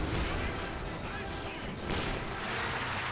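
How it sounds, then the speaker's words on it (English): In Company of Heroes 2, German grenadiers fire a rifle grenade amid a dense, loud wash of battlefield gunfire and explosions rumbling continuously, under a commentator's talk. "Grenadiers fire a rifle grenade there"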